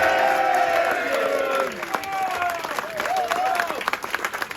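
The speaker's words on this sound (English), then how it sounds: "a big round of applause for your Rotherham Titans" A crowd applauds and cheers for the Rotherham Titans rugby team at a club gathering, steady clapping with a few whoops, the noise thinning slightly midway then swelling again.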